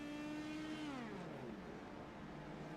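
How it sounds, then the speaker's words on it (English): An open-wheel race car engine in iRacing's Indy Pro 2000 series shuts off, its steady whine sliding down in pitch and fading into a low rumble over about a second, faint and alone. "You can hear Shire shutting the car off."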